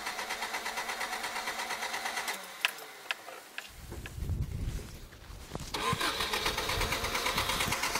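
A bus engine in Iran chugs and rattles, stalls into a low rumbling lull, then clatters back to a rough idle.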